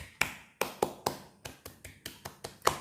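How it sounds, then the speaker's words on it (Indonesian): A group claps hands together in an uneven run of about eleven sharp, fairly close claps over a few seconds. "Kalau begitu kita tepuk tangan pandu positif untuk kita semua"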